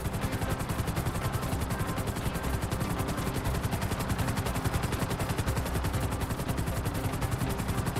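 A helicopter flies in Grand Theft Auto 5, its rotor thumping in a steady, rapid, loud chop that runs unbroken from start to finish with no voices over it.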